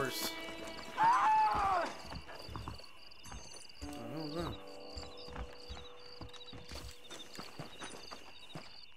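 Horse hooves clip-clop in Red Dead Redemption, a steady rhythmic patter under a man's brief spoken remark, with game music and ambient tones layered over the hoofbeats.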